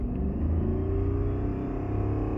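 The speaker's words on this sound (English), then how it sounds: "But when I rev the engine" A 2004 Mercedes E500 W211 with the M113 engine, revved while parked, gives a loud steady low rumble that holds level throughout, close and alone with no talking.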